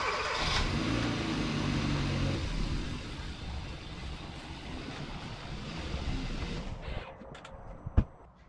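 A Vanderhall car engine runs steadily and loudly nearby, settling into a rough idle before cutting off with a sharp click near the end.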